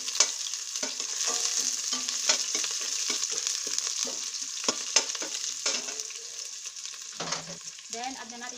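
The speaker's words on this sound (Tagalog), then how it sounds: "So unahin natin ng sibuyas. Then add natin yung garlic." Onion and then garlic sautéing in annatto oil in a pan for sotanghon, a steady bright sizzle with frequent stirring scrapes and clinks throughout, close and moderately loud, no talking.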